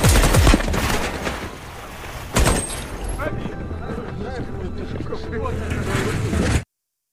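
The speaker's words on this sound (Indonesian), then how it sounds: "Saat senjata itu akan diuji coba, Anak buah Pavel yang berada di dalam gudang" A Kalashnikov AK-47 rifle is test-fired in a film scene, with loud bursts of automatic gunfire and clattering echoes beneath spoken narration.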